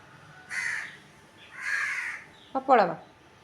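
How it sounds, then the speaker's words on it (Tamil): Crows cawing from a power line overhead in cold morning air, two drawn-out caws followed by a sharper, harsher call, moderately close against a quiet background. "காக்கா பாரு மேலே கூப்பிட்டுட்டு இருக்குது"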